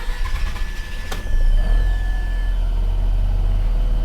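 A hot 2005 Mazda RX8 rotary engine cranks with a short whine and a sharp click, then catches and settles into a loud, steady idle close by, with no talking.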